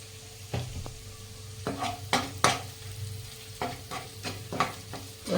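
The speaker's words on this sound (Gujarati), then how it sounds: "તો આપણા મસાલા સરસ સંતરાવા દઈશું" Spices sautéing in a pan for dal, a low steady sizzle punctuated by several sharp spoon scrapes and taps against the pan, close and fairly quiet, without speech.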